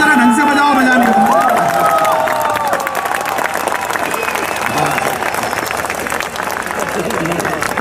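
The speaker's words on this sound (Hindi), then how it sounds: "तालियां जरा ढंग से बजाओ" An audience claps and cheers loudly at a gathering, the applause strong at first and then thinning into a steady patter of scattered clapping and crowd noise.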